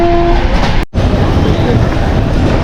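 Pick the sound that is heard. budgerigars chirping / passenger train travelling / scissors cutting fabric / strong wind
passenger train travelling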